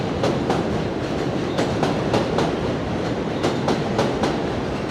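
A 7 subway train rolls along the elevated track overhead in Queens, New York City, a loud continuous rumble with rhythmic clickety-clack wheel beats repeating throughout.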